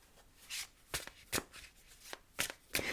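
A deck of reading cards being shuffled by hand in several quick, crisp riffling bursts, close and fairly quiet, with short pauses between.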